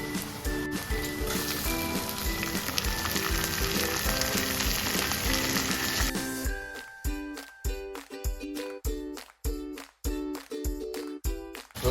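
Onions with tomato frying in a pan for palak chicken, a dense sizzle that turns into rhythmic crackling bursts as the mix is stirred, close and alone without speech.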